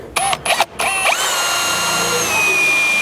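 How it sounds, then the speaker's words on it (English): A power drill whirs in short bursts, drilling out M6 rib nuts in a Chevy Colorado truck bed, stopping and starting twice, then runs steadily as the bit spins down with a high whine, loud and close. "So starting out here, we'll drill both of these out."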